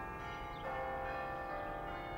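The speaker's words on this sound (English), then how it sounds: "church bells were ringing across England" Church bells ring across England in celebration of a medieval military victory, a steady, harmonically rich peal sustained throughout at moderate level, growing slightly fuller partway through, with no voices.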